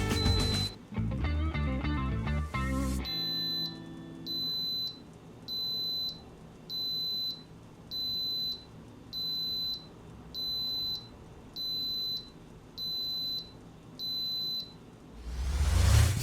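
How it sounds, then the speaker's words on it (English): An Instant Pot pressure cooker cooking corn plays a short melodic chime, then gives about ten evenly spaced electronic beeps in a regular rhythm, close and clear, before a burst of rushing noise at the end. "That is exactly how the Instant Pot tells you that your corn is ready to go."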